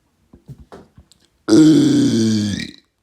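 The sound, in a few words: burp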